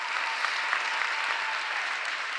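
An audience applauds at a State of the City address by Philadelphia's mayor, a dense, even wash of many hands clapping steadily throughout, loud and continuous.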